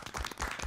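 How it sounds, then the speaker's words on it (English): Brief, soft applause from a small group in a podcast studio welcoming guest Naomi Monster, a short burst of claps without talk. "Clap for me. I'll give it up for myself."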